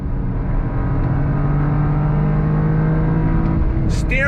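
A 2023 Toyota GR Corolla engine pulls in second gear under throttle, a loud, steady droning whir heard from the cabin that holds even throughout.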